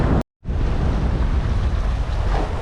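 Strong wind and rushing ocean waves roar continuously around a sailboat under windvane steering heading for Antigua, with 2.5 to 3 meter seas and 20 to 22 knot winds. The sound is loud and near, broken briefly near the start.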